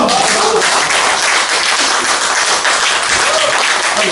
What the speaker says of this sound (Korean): 박수 한번 받으세요.